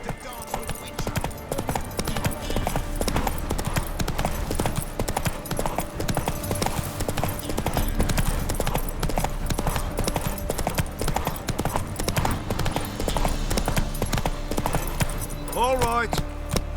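Geralt's horse Roach gallops in The Witcher 3, a rapid, continuous clip-clop of hooves with jingling tack that stays close and loud throughout, a brief whinny-like cry near the end, and faint voices mixed in.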